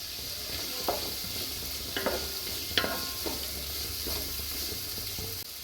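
Cumin seeds sizzle in hot oil in a pan as a spoon stirs them, with a soft, steady frying hiss and a few light scraping clicks. Nearby and fairly quiet, with no talking.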